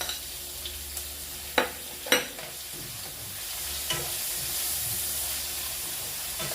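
Tomatoes drop into a pan of sautéing vegetables, a few sharp clattering knocks and spoon scrapes over a steady close frying sizzle that swells slightly afterward.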